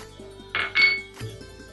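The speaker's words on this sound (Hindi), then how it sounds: "अब इसको अच्छे से मिक्स करेंगे।" Metal clinks and scraping as biryani masala spices are mixed in a cooking pan, a couple of bright bursts of clatter over a steady low hum, close by, no speech.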